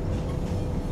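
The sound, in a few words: Thai train at the station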